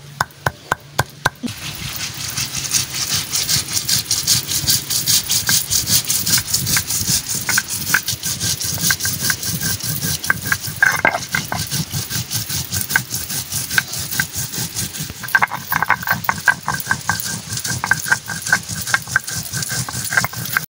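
Spices are ground by hand on a traditional stone shil for a crab dish, a steady rhythmic rubbing and scraping of stone on stone repeating close and loud for the whole stretch.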